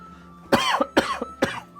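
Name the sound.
cough into the microphone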